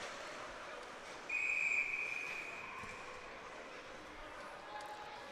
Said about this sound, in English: Got a whistle now,